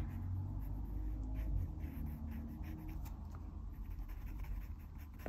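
A mechanical pencil sketching a portrait on paper makes soft, continuous scratchy strokes, faint and close, over a steady low background hum, with no talking.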